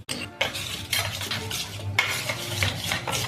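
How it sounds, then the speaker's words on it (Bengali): A spoon stirring mustard and poppy seed paste with curd inside a metal tiffin carrier, repeated close scraping and clinking strokes in an uneven rhythm. "এটা ভালো করে মিশিয়ে দিতে হবে"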